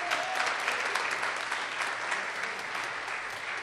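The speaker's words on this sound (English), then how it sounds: "so give her a round of applause." An audience at a Riverside Township stage event claps together in dense, even applause throughout a short burst of under four seconds, with no talk over it.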